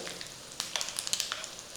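Fenugreek seeds, fennel seeds and asafoetida crackling briefly in hot oil as a pickle tempering is made, giving a soft near sizzle with a cluster of small sharp pops in the second half, no voices.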